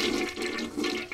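A video game toilet flushes in one gurgling rush of water, loud and close, with no talk over it.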